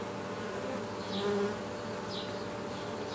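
Honey bees buzz at a hive landing board, a dense steady hum of many insects close by, with individual bees briefly whining louder as they fly past.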